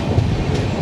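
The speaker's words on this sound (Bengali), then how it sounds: "এখন আমাদের ট্রেন একটা সুন্দর কার্ভ নিচ্ছে" The Howrah–Balurghat Express (13063) rolls over the rails through a curve, heard from inside as a loud, steady low rumble of wheels and carriages with no voices.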